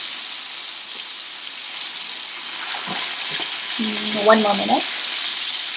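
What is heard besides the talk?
kebab frying in a pan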